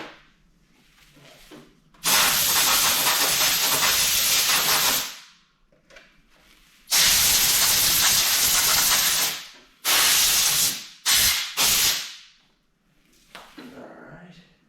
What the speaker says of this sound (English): So I'll get the fluid drained.